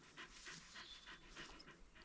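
A shelter dog in Japan pants in a quick, steady rhythm, close but quiet, with no talking over it.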